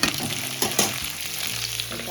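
Eggplant, beans and tomato being stirred with dried loitta fish in a hot pan, steady sizzling and frying hiss with a few scraping stirs of the spatula near the start, close and continuous.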